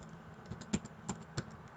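Computer keys tapped while an SQL query is entered: a few spaced, soft clicks at close range, quiet and alone with no voice.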